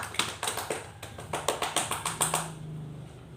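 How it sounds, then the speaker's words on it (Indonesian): Students in a microteaching classroom clap for a classmate, a dozen or so crisp claps in an even, rhythmic beat that stop after a few seconds, with no talking over them. "Berikan tepuk tangan untuk saudara"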